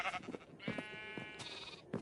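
Sheep bleating in the Minecraft video game, several short wavering bleats in a row, fairly loud and close against a faint background, with no talking.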